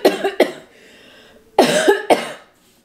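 A woman coughs after choking on a big sip of water: two sharp, close coughs, a brief pause with heavy breathing, then two more harsh coughs, loud and without speech.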